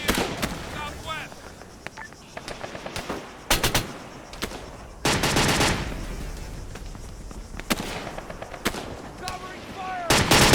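Gunfire in the Arma 3 video game: repeated bursts of rifle and machine-gun shots, some sharp and close, others more distant, crack irregularly over several seconds, interleaved with quieter gaps.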